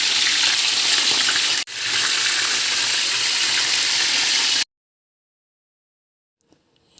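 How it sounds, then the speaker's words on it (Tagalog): Fish frying in hot oil gives a loud, dense, continuous sizzle with one brief break, then stops abruptly into near silence with a couple of faint clicks. "Iprito na natin itong isda."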